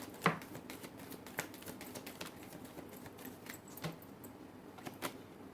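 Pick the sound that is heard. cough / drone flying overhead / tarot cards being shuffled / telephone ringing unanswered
tarot cards being shuffled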